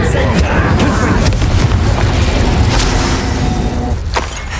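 A Confringo explosive spell blasts in Hogwarts Legacy, a deep booming burst over dense battle noise with crackling bursts, loud and close, while a voice speaks amid the combat.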